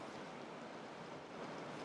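A river in the Jamtland wilderness, wide and deep, flowing in a steady, soft broadband rush of water with no voices or other distinct sounds over it.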